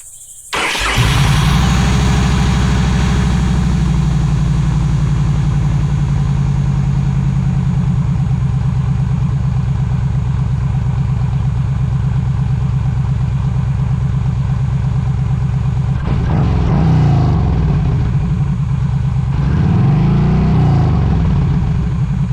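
A Yamaha V Star 1300 motorcycle fitted with a Cobra slip-on exhaust and Cobra tuner starts up and settles into a loud, steady, close idle with a deep pulsing thump, swelling briefly near the end.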